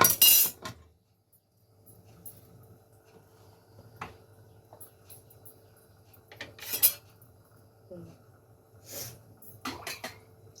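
Metal clanks and clinks of a lid being set on a pressure cooker of boiling lentils, a few sharp knocks spaced out over a low steady hum.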